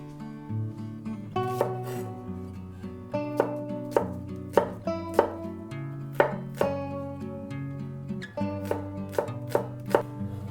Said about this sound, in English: Mince a little bit of spring onion.